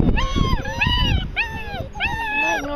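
High, wavering whimpers and yips from a six-week-old puppy come in repeated bursts, with a person talking softly underneath.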